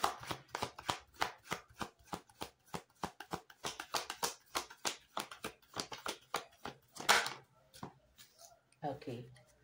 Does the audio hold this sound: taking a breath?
no